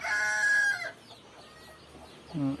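A native-breed rooster crows close by, followed after a pause by a short cluck from a native hen, with quiet background between.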